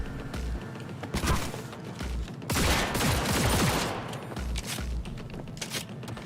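Rapid bursts of gunfire in the Cyberpunk 2077 video game, loud sustained volleys with booming low thumps, rolling on almost continuously.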